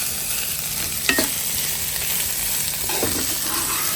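Boiled drumstick (moringa) leaves stirred in a hot pan, a steady frying sizzle with a couple of scraping spatula strokes standing out, close and alone with no talk.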